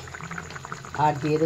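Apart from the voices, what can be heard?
soybean curry boiling in a pan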